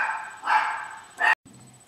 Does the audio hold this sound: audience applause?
no